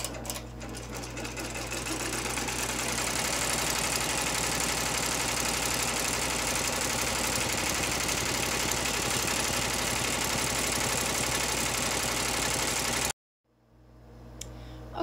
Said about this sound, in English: we're returning our hoop to the machine and is going to stitch a line back and forth to secure all of these